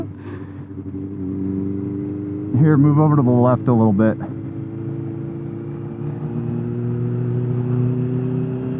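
A Honda CB650R inline four-cylinder motorcycle with a loud aftermarket exhaust runs steadily with a rough engine drone, under a brief burst of nearby talk.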